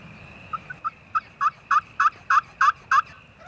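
A wild Merriam's turkey gobbles in a rapid run of about a dozen pulsing notes, rising in loudness, from a moderate distance over quiet mountain background.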